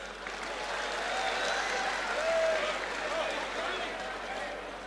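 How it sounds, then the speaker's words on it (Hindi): Audience applause at a Hindi poetry speech event in Delhi's Talkatora hall, a steady wash of many hands clapping at moderate level, with some cheering tones and crowd voices mixed in throughout. "और अब इसके समापन पर तालियां बजनी चाहिए।"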